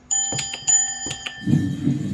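A bright homemade electronic elevator chime rings out in a few quick tones, repeating in short bursts, then gives way to the low rumbling hum of a hydraulic elevator.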